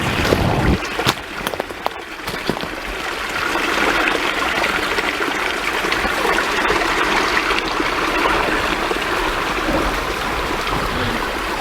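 A small stream trickles and babbles steadily at a mountain water source near Bailey, Colorado, a continuous close, moderately loud rush with no voices.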